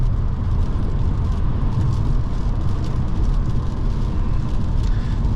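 Audi RS3 on a rainy road, its engine and tyre hiss forming a steady, loud rumble of road noise with a constant wet wash throughout.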